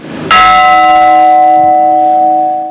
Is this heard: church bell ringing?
yes